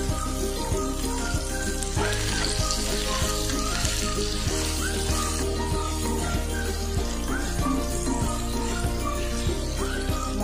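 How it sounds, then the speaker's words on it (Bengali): Spices sizzle and crackle in a hot pan for okra kasundi, a continuous close frying hiss with occasional stirring clinks. "মশলাটা ভাজা হয়ে গেছে"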